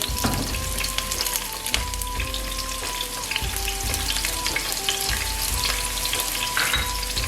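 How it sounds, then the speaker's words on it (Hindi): Onions frying in oil in a pan make a loud, continuous crackling sizzle with occasional stirring knocks, while faint steady musical tones play in the background. "ये सबसे पहले इसमें डाल देंगे प्याज।"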